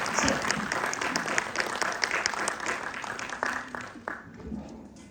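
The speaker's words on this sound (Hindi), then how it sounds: "एक बार जोरदार तालियां बजा के स्वागत कीजिए अवधेश मिश्रा सर का।" Hands clap together in warm welcome for a speaker at an international yoga conference in Haridwar, a full burst of crowd applause that starts strong and gradually tapers off into scattered claps.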